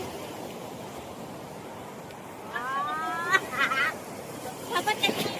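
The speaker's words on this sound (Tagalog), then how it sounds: "Ang lakas ng alon guys!" Steady surf and wind roar throughout, with excited voices shouting over the waves near the end.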